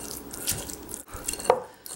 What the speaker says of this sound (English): mash that tofu.